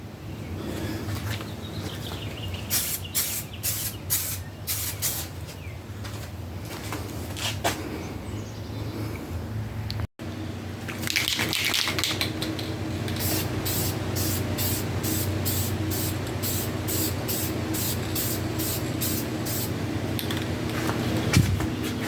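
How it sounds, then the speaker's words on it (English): Bulldog adhesion promoter is sprayed from an aerosol can onto masked trim of a VW GTI Mk5, hissing in repeated short bursts and then in longer, nearly continuous light passes close by. "I'm going to spray some Bulldog adhesion promoter"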